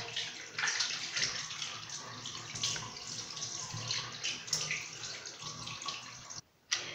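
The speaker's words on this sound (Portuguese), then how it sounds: "eu vou lavar o meu rosto com água bem fria, de preferência água gelada" Cold tap water runs steadily into a sink as a face is washed, a continuous close splashing hiss that cuts out briefly near the end, with no talking.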